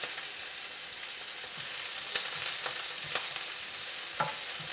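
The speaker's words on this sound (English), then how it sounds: "And while the onions are cooking" Onions frying in oil in a pan, a steady close sizzle with a few brief stirring clicks and scrapes over about five seconds, no talking.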